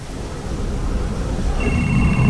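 A telephone rings in the video game Beyond Two Souls, a loud electronic tone rising out of dense game noise near the end, with a voice faintly present underneath.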